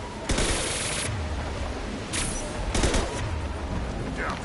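Sniper fire cracks in a video game: a few loud, sharp shots spaced out over steady background noise, with a faint whistle near the end.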